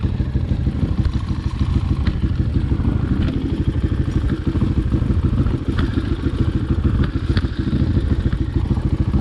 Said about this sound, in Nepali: यो त बाइकै ताने यार यसले